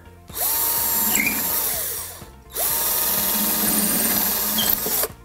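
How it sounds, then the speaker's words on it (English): Drill boring pilot holes into pallet wood for a table, two steady whirring bursts of a few seconds each with a short pause between, close and fairly loud. "a couple of little crosses in place to drill a pilot hole where we're going to screw them"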